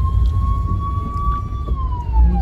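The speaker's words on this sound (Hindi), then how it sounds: "जहाँ पे आवाज आ रही है ना एम्बुलेंस की" Ambulance siren stuck in a heavy Delhi traffic jam, a steady wailing tone that slowly falls in pitch, heard over dense low traffic rumble and engine noise without speech.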